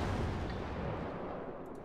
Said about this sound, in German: Oh, er schießt mal zurück jetzt.